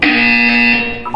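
A loud, harsh electronic buzzer from the game Portal 2, one sustained tone of just over a second, close and dominant with no talk over it.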